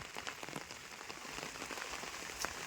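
Rain falling outdoors under a cloudy sky in a village, a faint, steady patter of drops striking surfaces, with scattered sharper taps standing out against a soft background hiss and no talking.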